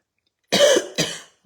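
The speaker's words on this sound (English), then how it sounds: "I haven't coughed until I get on to do my video" A person gives two quick, close coughs in an otherwise silent room, the first slightly longer than the second.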